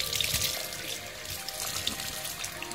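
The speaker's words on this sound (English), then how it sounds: "And then now I'm gonna wash my face." Water running and splashing at a sink while someone washes their face during a skincare routine, a steady close wash of flowing water and light splashes with no talking.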